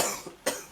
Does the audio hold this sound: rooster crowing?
no